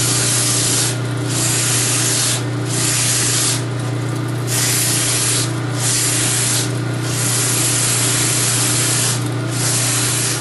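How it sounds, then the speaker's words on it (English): A wooden spoon sanded by hand with 80 grit sandpaper: close, rhythmic rasping strokes repeat steadily over a low background hum. "this is how we sand it. This is 80 grit sandpaper."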